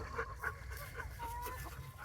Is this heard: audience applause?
no